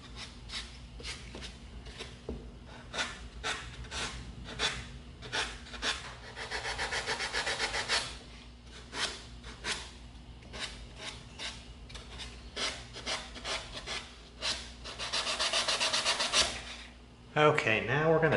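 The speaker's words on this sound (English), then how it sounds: "Now we're going to get in here with our 80 grit and we're going to try to clean it up just a little bit." Sandpaper of 80 grit scrubs EVA foam on a cleaver prop in quick rasping back-and-forth strokes, some bursts longer and denser, close up, ending with a brief handling noise.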